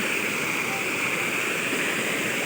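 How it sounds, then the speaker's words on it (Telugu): Rushing water pours steadily through a broken field embankment with a constant loud roar and hiss, unbroken throughout. "పొలం గట్టు మొత్తం పోయింది వాటర్ అంతా ఇందులోకి వెళ్తుంది"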